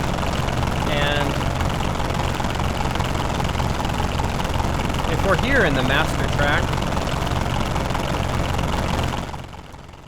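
A steady low engine idle drones continuously while a person talks over it, before the sound fades out at the end.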